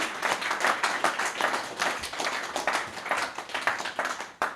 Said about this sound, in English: This is a round of applause, I think.